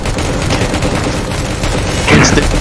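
Gunfire in a Roblox raid, with dense, continuous crackling shots running through the whole stretch under chatter and game noise, and a louder burst near the end.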